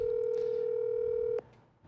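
A telephone ringback tone while a call waits for someone to pick up: one sustained steady tone that cuts off abruptly near the end, leaving quiet room noise.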